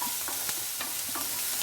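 Sliced onion and capsicum sizzle in a hot pan for chilli egg while a spatula stirs and scrapes through them in repeated soft strokes over a steady frying hiss.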